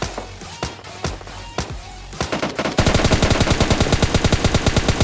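Rapid automatic gunfire in the mobile battle royale game PUBG Mobile Lite from an AKM rifle: scattered single shots give way to a loud, sustained burst of evenly spaced rounds, close and clear with no talk.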